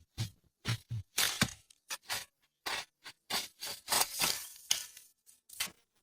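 Hand saw strokes cut logs to length in uneven bursts, rasping back and forth up close with short pauses between strokes.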